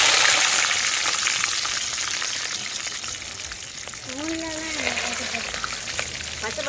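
Garlic and onions fry in hot oil with fenugreek and mustard seeds in a village kitchen. A constant close-up sizzle and crackle carries on throughout, with a short tonal voice-like sound partway through.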